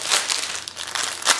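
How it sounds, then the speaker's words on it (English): Plastic packaging crinkles and rustles close by while a vintage mystery box is unwrapped, a brief burst of crackly, uneven crumpling with no speech. "Sorry about the plastic noise"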